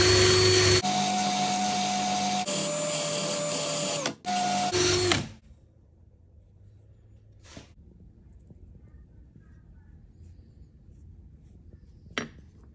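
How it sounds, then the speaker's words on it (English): A flap wheel sands a steel jaw harp reed, a loud steady whirring grind for about five seconds that cuts off, then a quiet room with a couple of faint clicks. "I am going to maybe just sand this down a little bit more with the fanning wheel"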